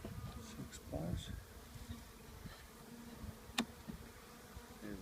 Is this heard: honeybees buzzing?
yes